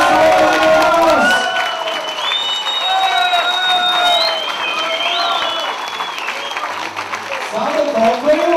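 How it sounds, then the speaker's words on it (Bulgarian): Wedding guests at Slavcho and Tsveti's celebration break into loud, sustained applause with cheering and crowd voices, a dense roar of clapping that carries throughout. "Посрещнем станали на крака с силни аплодисменти"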